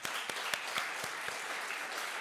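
A church congregation claps together during a Sunday worship service, a steady dense patter of many hands with a few sharper individual claps standing out, fairly close and without any talking.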